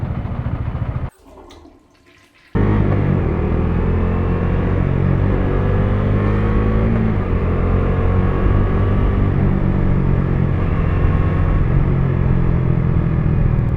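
A Bajaj Dominar 400 motorcycle rides along a road, its engine holding a loud, steady drone. The sound drops out briefly near the start, then the motorcycle continues cruising with a constant rumble and wind.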